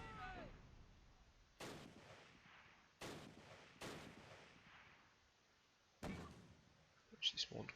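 Distant artillery and mortar barrages boom in the Close Combat wargame: four or five dull thuds spread irregularly over several seconds, each with a rumbling decay over a quiet background, with faint talk between them.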